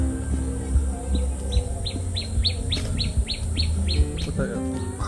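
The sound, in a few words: birds chirping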